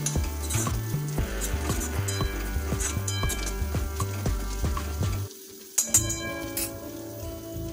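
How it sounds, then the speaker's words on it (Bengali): Onion tempering sizzles and crackles loudly in a wok for a Rajasthani vegetable dal, with a steady frying hiss, rhythmic stirring scrapes and clinks of a utensil against the pan, and a brief quieter lull before the sizzle resumes. "ফোড়নটাকে আমরা মিনিট খানেক ধরে নাড়িয়ে নিয়েছি"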